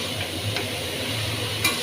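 Shredded cabbage frying in oil for a hilsa fish head curry, stirred in the pan: a continuous close sizzle with soft scraping strokes and a brief sharp clink near the end, no talking.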